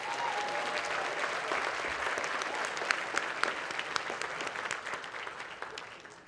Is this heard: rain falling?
no